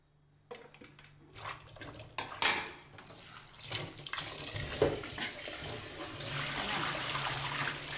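Tap water runs steadily into a sink while dinner is prepared in a home kitchen, with dishes and utensils clinking faintly, building from quiet to a continuous close splashing flow.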